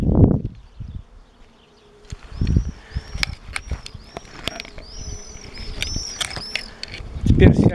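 Honeybees buzz in and out close by at a hive being split in two, their drones rising and falling over a busy hum, with occasional handling thumps.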